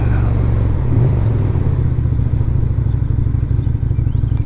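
A Lifan Lycan 250 motorcycle engine rumbles loud and close as it is ridden, a steady low throbbing drone that holds on without a break and swells slightly near the start.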